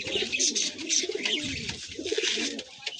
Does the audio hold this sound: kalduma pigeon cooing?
yes